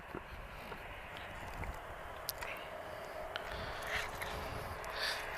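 Aircraft taxiing at Lisbon Airport, a steady distant engine rumble and whine with a faint wind-like hiss, rising slightly toward the end, with no voices.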